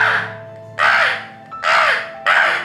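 A mimicry artist voicing a crow: three loud, harsh caws delivered one after another with short gaps, close to the microphone, following a held nasal tone.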